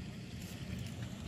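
Small boat carrying shrimp bait approaching across a canal in Tiền Giang, a steady low engine-and-water rumble with light wind noise, fairly close and continuous, no talking.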